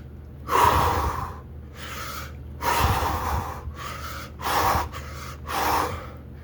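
Heavy breathing during push-ups, five or six loud gasping, snorting breaths in a steady in-and-out rhythm, close up with short pauses between each exertion.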